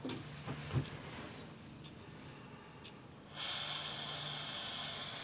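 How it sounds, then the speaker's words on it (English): A neutral torch flame hisses softly as it heats solder and flux on a gypsy-set faceted stone mount, with a few faint taps early on, then the hiss swells into a louder, steady roar near the end. "What you want to do now is use your same neutral flame that you always use."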